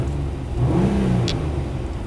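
A Nissan Maxima engine idling lean with an overheating and long-crank fault, a steady low drone heard close, with a slight swell in the middle and no talk.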